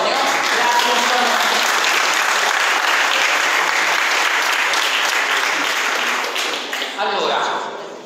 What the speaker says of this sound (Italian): Antonio, un applauso ad Antonio.